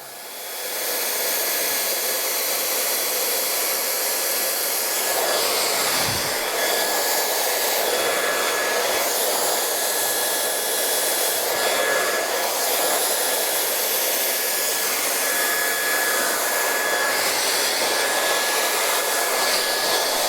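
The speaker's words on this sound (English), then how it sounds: "I'm just blow drying off" A handheld hair dryer blows hair dry with a loud, steady roar that runs unbroken for about twenty seconds, with no voices over it.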